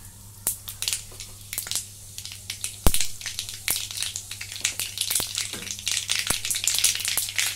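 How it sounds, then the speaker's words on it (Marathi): Mustard seeds and cumin spluttering in hot oil in a wok, a dense run of sharp crackles and pops that grows busier over several seconds above a faint steady hum. "मोहरी तडतडली. आता जिरे,"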